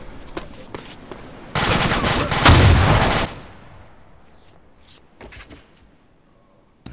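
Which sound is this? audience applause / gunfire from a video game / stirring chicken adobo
gunfire from a video game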